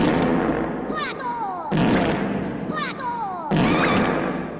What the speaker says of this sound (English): The 21 fart gun salute!